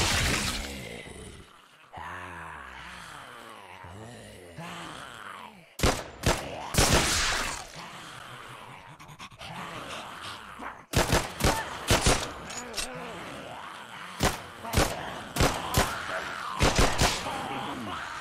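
Gunfire in the VR zombie game Dead Groundz: sharp bursts of shots, some rapid and clustered, crack out over ambient game noise, with groans and gasps heard between the volleys.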